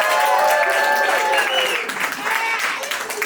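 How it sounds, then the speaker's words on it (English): Comedy club audience at Broadway Comedy Club breaks into strong applause with some cheering, loud at first and thinning slightly toward the end, with voices mixed in. "Big round of applause for Miss Lindsay Barnes!"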